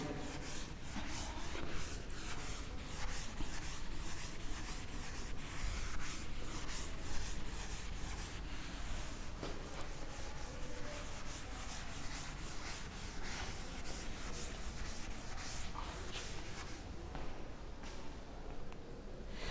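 Continuous scrubbing of a board eraser during a physics lecture on angular motion, a dense steady rubbing that carries on for nearly twenty seconds with no pauses.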